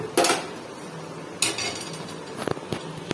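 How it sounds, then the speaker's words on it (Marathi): Metal clatter of a tawa griddle set down on a gas stove, with a sharp clank near the start, another around mid-clip and a few lighter knocks toward the end, close and moderately loud with no talk. "अगोदर आपण आता गॅस लावून घेऊ आणि त्याच्यावरती तवा ठेवून घेऊया"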